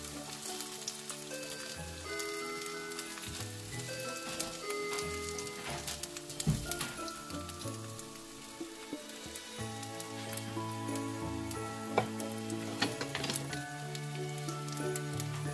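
An omelette fries in a hot pan with a continuous close sizzle and crackling spatter, accompanied by tonal hums and scattered clinks throughout.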